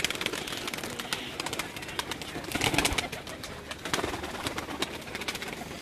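Golden pigeons on a rooftop in Pakistan make soft, continuous cooing and bird calls under steady outdoor background noise.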